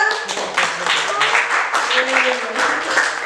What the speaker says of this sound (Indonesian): Tepuk tangannya buat Arka.